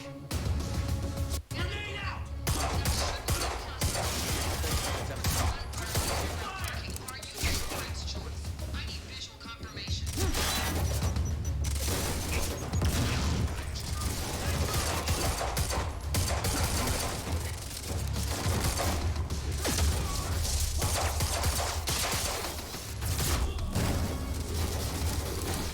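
Dense, continuous video game gunfire runs almost unbroken, with rapid bursts layered over a heavy low rumble and occasional crashing impacts, while a player talks over the action.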